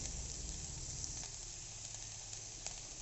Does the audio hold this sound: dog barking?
no